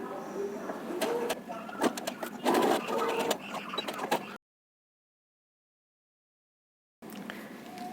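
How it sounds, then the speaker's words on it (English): Home sewing machine stitching along a hem and seam line of a garment with reverse facings, a busy mechanical whir with clicks at close range for about four seconds, then silence, then a brief resumption. "I will just sew on this line here"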